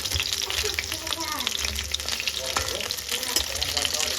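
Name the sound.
pakoras frying in a little oil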